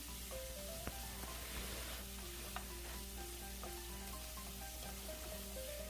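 Meat stir-fried in a pot for Korean tteokguk rice cake soup, a soft steady sizzle and scrape of stirring, fairly faint, with steady tonal sounds running underneath and no talking.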